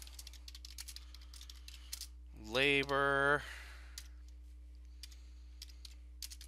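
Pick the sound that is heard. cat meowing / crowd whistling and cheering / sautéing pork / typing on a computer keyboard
typing on a computer keyboard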